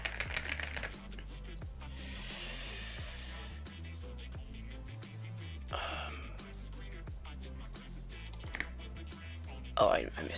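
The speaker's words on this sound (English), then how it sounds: "I tried typing a bunch of stuff" A computer keyboard clatters under rapid, continuous typing, with dense clicking keystrokes running the whole way through and other faint sounds beneath.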